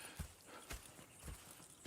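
Horse hooves clip-clop in Red Dead Redemption 2 as a slow, steady walk of about four soft, faint thuds under a quiet ambient bed, with no talking.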